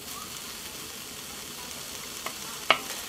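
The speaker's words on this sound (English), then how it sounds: "throw in the onions as well as the bacon and give that some color and a little bit of a sear" Onions and bacon fry in a hot pan, a soft steady sizzle with a couple of brief clicks or knocks near the end, close but fairly quiet and without talking.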